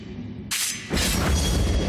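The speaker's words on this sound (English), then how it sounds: "Causes a sacred explosion at the furthest point from its trajectory" A sacred explosion from a blessed blood projectile in the video game Blasphemous, a sudden booming burst followed by a loud, sustained rumbling blast, heard alone.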